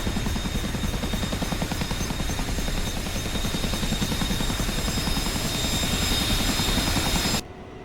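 Game helicopter in a flight-sim campaign mission departing westward, its steady rotor thump and engine drone loud and continuous, cutting off abruptly near the end.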